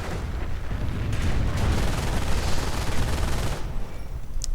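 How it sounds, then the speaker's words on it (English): An MG42 machine gun fires in a World War II strategy game amid a dense, continuous roar of gunfire and explosions that eases off near the end. "MG42 opening up on them though"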